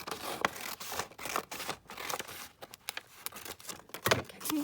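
Paper receipt strip being cut with scissors, a close series of crisp snips and rustles in irregular bursts with no talking.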